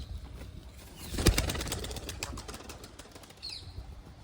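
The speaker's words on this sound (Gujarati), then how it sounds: "આમાં કબૂતર બેઠા છે એટલે આપણે એક બહાર કાઢી નાખીએ" A pigeon inside a loft bursts into a quick flurry of wing flaps, close and sharp, then settles into softer rustling with a faint chirp near the end.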